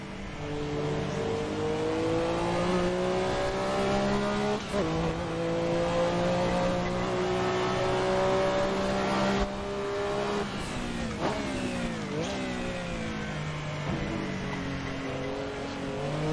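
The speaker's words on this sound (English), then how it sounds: "There's a car behind us." Group C race cars at 1985 Le Mans in the Assetto Corsa racing game: a loud engine note climbs through the revs with sharp upshifts and downshifts, heard from the cockpit as another car follows behind.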